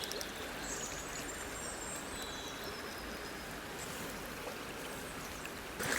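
A river with a strong current, where winter grayling are fished, flows in a steady, even rush of water that stays constant throughout, with no voices.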